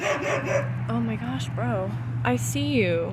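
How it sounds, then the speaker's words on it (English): Several dogs bark and yip nearby at other dogs in a backyard where chickens are kept, sharp barks broken up by a voice talking over them. "please excuse the dogs barking"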